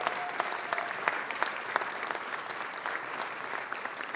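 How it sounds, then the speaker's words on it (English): An audience at a Los Angeles city council meeting applauds Community Safety Partnership officers of the LAPD, a sustained, even roar of many hands clapping with a few sharper claps standing out. "Let's give a big round of applause to the Community Safety Partnership officers"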